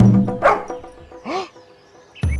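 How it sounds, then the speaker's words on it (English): Cartoon dog growling, snarling and barking in a bedtime story, a few short loud barks and yips with a whining bend between them, ending in a final sharp bark. "Let me growl, snarl, and bark at them."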